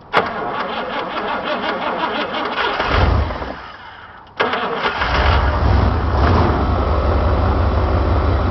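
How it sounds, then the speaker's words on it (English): A 20-year-old Chevy 305 V8 cold-starting at minus 23 degrees: a few seconds of loud cranking, a brief drop, then the engine catches with a roar and settles into a strong, rough idle. "I just want to see if my 20-year-old Chevy's going to start without a hitch."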